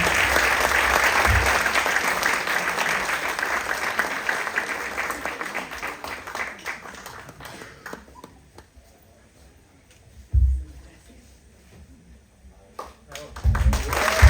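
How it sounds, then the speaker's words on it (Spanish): A university audience at UACM Cuautepec gives loud, dense applause that gradually thins and fades out, followed by a few brief louder bumps and isolated sounds near the end. "Muchas gracias, bravo, aplauso."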